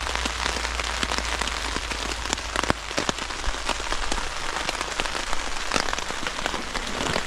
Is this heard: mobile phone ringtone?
no